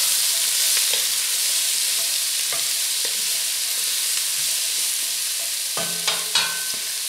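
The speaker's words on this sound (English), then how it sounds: "I'm going to sauté the carrots and the onions just until they caramelize lightly." Diced carrots and onions sauté in a pot for beef stew, giving a loud, steady hiss with scattered soft scrapes and knocks of stirring that grow busier toward the end.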